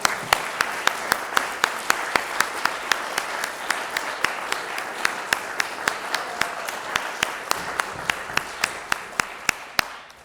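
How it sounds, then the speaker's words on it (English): A meeting audience gives a warm round of applause, a dense steady patter of many hands for about ten seconds with a few sharper claps standing out, fading slightly at the end. "So let's give a warm round of applause."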